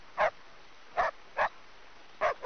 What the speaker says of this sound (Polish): Gdzie jest właściciel tego psa?